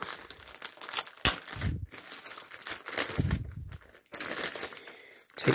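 A taped plastic bag of model kit parts for a 1/72 Revell Razor Crest is pulled open, giving loud, close crinkling and tearing rustles in uneven bursts throughout.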